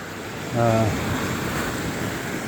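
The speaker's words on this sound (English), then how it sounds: "So you can see the water's crashing onto these rocks this far" Ocean waves crash onto coastal rocks in a continuous loud wash of surf and wind noise, with a brief tonal hum near the start.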